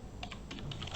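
Brief quick keystrokes on a computer keyboard during 3D modelling work in Houdini, several soft clicks in a short burst, close and quiet.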